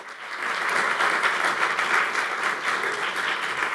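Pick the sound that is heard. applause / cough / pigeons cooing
applause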